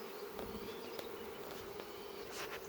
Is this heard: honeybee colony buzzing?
yes